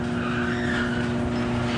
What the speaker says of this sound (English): We'll raise the door to a safe level